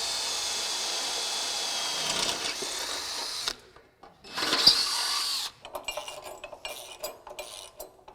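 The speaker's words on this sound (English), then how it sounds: "and then drill your remaining holes" A power drill whines steadily into a steel truck frame for a few seconds, pauses briefly, then runs again in shorter bursts, close and fairly loud.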